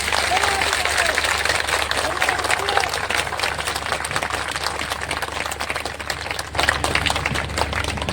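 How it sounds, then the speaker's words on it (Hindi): A crowd at an Ashoka club gathering claps loudly and continuously in a dense, steady roar of hands, swelling slightly near the end. "मैं चाहता हूं आपकी तरफ से एक जोरदार ताली होनी चाहिए।"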